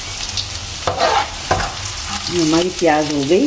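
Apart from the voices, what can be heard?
cumin seeds sizzling as they are added to a pan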